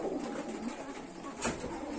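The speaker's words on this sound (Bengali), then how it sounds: "এইখানে কতগুলো কবুতর আছে" Pigeons cooing in a loft among breeding pairs with eggs and chicks, a soft continuous murmur of low coos from several birds with one brief louder note near the end, close and steady.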